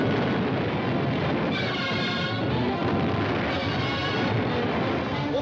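Cannon fire from a ship in a 1942 pirate film, a dense continuous rumbling barrage of booms and crashes, loud and sustained with no clear gaps.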